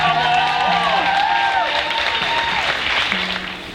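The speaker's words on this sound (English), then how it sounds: "Can you stamp your feet, clap your hands, and make some noise for OneNess Sankara" An audience at a Maya Angelou film festival event applauds and cheers loudly for a speaker taking the stage, with sustained clapping, whoops and crowd noise under a few raised voices throughout.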